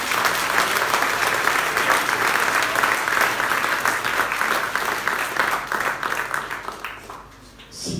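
A church congregation applauds for Jesus during worship: loud, dense, sustained clapping from a crowd fills most of the span, then thins and fades before a brief swell at the very end.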